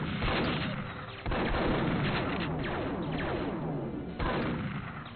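Shotgun fire in the video game Perfect Dark comes as dense, booming, heavily compressed gunshots in a continuous barrage, with two sharp louder blasts standing out amid the chaotic game audio.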